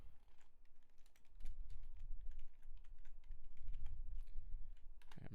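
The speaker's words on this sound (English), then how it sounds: "I'm typing with one hand." Computer keyboard typed on with one hand, irregular quick clicks at close range, with low rumbling handling noise between bursts and no talk.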